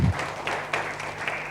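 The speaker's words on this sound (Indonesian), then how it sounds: "Yang mau berikan tepuk tangan beri Tuhan kita." A church congregation claps during an online worship service, a soft, steady patter of many hands spread across the room, fairly distant and even throughout.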